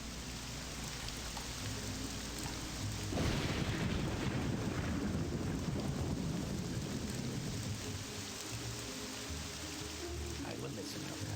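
Heavy rain and a rolling thunder crash during a thunderstorm in The Elder Scrolls III: Morrowind, with a low rumble swelling suddenly partway through and then easing back under constant rain noise; game music plays faintly in the background.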